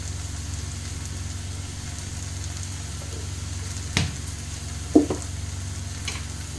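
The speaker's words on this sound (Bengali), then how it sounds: "এবার এটাকে আমি ভালো করে কষাবো" Spice masala with turmeric and Kashmiri chili powder for egg curry being sautéed in a pan, giving a steady low sizzle with a few sharp stirring scrapes near the end.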